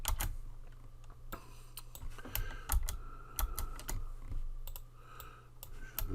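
Keyboard shortcuts typed on a computer keyboard while preparing web documents: quiet, close, irregular keystrokes and clicks in short bursts over a faint low hum.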